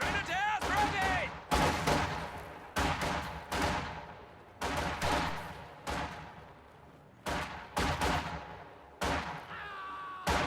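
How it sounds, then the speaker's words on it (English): Small arms gunfire rattles through a WWII strategy game battle, with conscripts engaging Volks Grenadier infantry near an MG34 position. Loud, sharp bursts repeat at irregular intervals of roughly a second, each cracking sharply, with a battle din continuing underneath. "Taking small arms fire!"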